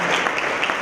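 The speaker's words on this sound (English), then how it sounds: "Big round of applause for our board here." An audience at an incubator pitch night applauds the board, a short, dense wash of clapping from a crowd lasting under a second.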